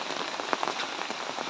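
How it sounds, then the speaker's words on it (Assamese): Heavy, unbroken rain beats down steadily near flooding ponds, a dense close patter of drops spread evenly throughout, with no voices. "অনৰ্গল বৰষুণ।"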